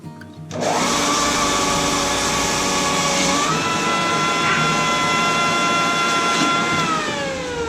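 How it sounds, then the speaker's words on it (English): A food processor chops tomatoes for water-bath tomato juice, its motor kicking on abruptly to a loud, steady whirring drone that shifts pitch slightly as the load changes and carries on close and continuous, with no talking. "All right, Mr. Food Processor, run it. Go ahead and turn it on."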